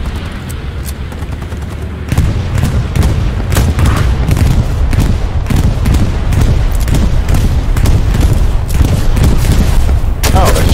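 Heavy gunfire from the Hell Let Loose war game, loud close rifle and machine-gun shots with booming distant explosions, repeated rapidly and continuously with no pause.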